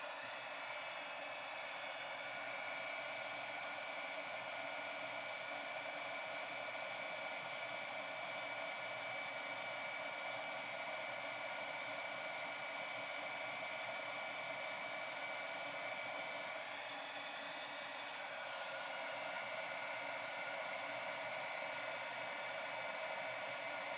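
A heat tool blowing hot air to melt embossing powder for papercraft, a steady, constant hiss-like whir held evenly throughout with no speech.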